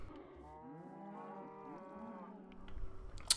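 Minecraft cows penned on a farm in an Xbox One survival game moo in a single drawn-out, wavering low call, followed by a few soft clicks.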